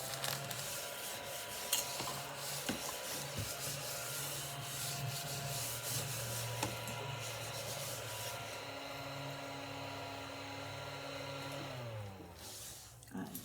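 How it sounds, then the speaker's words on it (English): A small vacuum runs steadily, close and fairly loud, sucking up cut greenery bits from making a heart-shaped wreath, its motor hum holding a constant pitch before winding down near the end. "let me do a little quick vacuuming"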